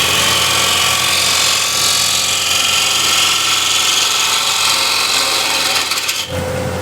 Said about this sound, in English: I'm using 1/2" spindle gouge.